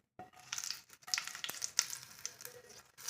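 Mustard seeds popping and crackling in hot oil with curry leaves for a tempering over carrot chutney, a busy, close run of sharp spits and sizzles with scattered louder pops throughout.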